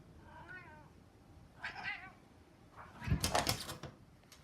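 An older pet cat meows a few times indoors, close and moderately loud, with short rising-falling calls spaced across a few seconds and a louder, longer meow near the end.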